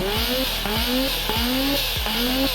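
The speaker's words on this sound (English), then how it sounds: "Let's give this engine just a smidgen of a listen." Tiny 200cc engine in the Automation/BeamNG driving game revving hard, with four quick rising sweeps in a steady rhythm. Each climbs fast, drops back, then climbs again, loud and close with no talk over it.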